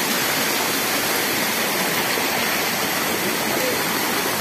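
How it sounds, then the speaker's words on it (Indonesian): Jukung waterfall in Nanga Mahap, West Kalimantan, a steady, dense roar of falling water that fills the scene continuously and evenly, loud and close, with no voices over it. "Akhirnya kita sampai juga di air terjun Jukung."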